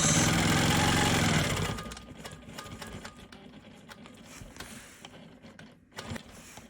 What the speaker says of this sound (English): I'm going to stitch 1/4 of an inch offset from my block